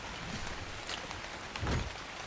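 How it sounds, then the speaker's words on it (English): Rain falling in the ARK survival game, a soft steady hiss with scattered patters and one low thump near the end, fairly faint and with no voice. "I know it's raining"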